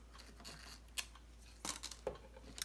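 Scissors snip the top off a paper snowman craft, a few short, quiet cutting clicks and rustles spaced irregularly in a quiet room.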